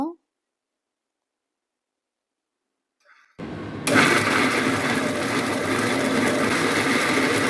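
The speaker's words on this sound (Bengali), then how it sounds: "এগুলো ব্ল্যান্ড করব" After a few silent seconds a blender starts up abruptly and runs on loud and steady, grinding pieces of chitol fish with a constant whirring roar up close.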